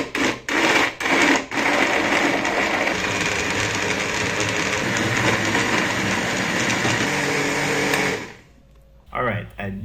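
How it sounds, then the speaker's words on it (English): A blender runs steadily at high speed, blending sweet potato pudding to a slightly coarse texture, loud and continuous for several seconds before cutting off, with short bursts at the start and a brief restart at the end. "I didn't blend this too smooth because I still wanted a bit of texture in the pudding."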